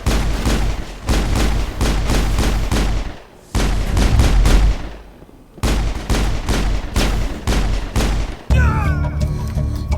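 Rapid pistol gunfire in the video game Mass Effect, dense loud shots in repeated bursts with brief pauses, ending in a burst of game effects and music.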